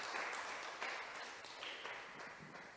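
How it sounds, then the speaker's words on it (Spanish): Congregation applause during a Spanish-language church service, a broad steady wash of clapping lasting a few seconds at moderate distance, without talk over it. "¿Por qué no le damos un aplauso"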